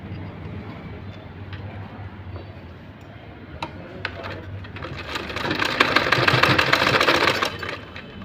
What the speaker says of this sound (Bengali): উল্টার দিকে সেলাই করে ফেলতেছে।